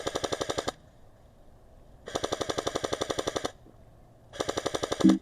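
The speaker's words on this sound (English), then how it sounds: "See if I can get him using the full auto from the AK." An airsoft AK rifle firing full auto in woodland, three rapid bursts of sharp mechanical shots, close and crisp, separated by short silent gaps.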